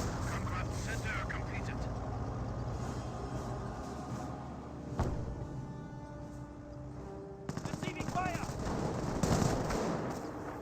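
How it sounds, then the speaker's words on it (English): Company of Heroes battle with rifle grenades firing amid continuous machine-gun and rifle fire, dense and steady, with scattered louder bursts and engine noise throughout. "Rifle grenades firing."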